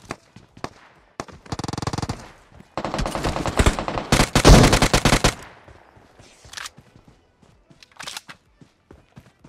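Mobile battle-royale gunfire in PUBG Mobile: rapid automatic bursts, fairly close and loud, with sharp single shots and brief pauses, plus a few footsteps.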